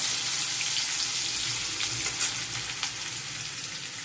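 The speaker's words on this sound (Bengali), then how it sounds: "কালো জিরে ফোড়ন দিলাম, এবার দিলাম রসুন গ্রেট করে রেখেছিলাম।" Grated garlic and black cumin frying in hot sunflower oil, a dense, loud, continuous sizzle close by with a few faint stirring scrapes and no voices.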